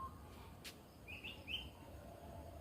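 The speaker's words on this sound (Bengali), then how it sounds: "সকালবেলা পাখিদের ডাক শুনতেছি" In the morning near a silk cotton tree, a bird gives two short, faint chirps a moment apart against a quiet outdoor hush, with no one speaking.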